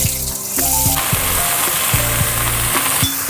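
Cut bottle gourd tipped into a little hot oil with a tempering, setting off a loud, steady sizzle over the whole stretch, with light knocks of a spatula.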